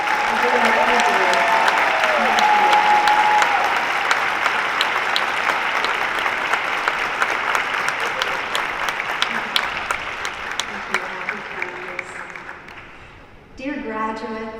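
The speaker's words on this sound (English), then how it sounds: "one more round of applause for all of you" Graduation ceremony audience applauding at an undergraduate commencement, a dense, steady wash of many clapping hands that gradually thins toward the end, with a voice beginning to speak over the last moments.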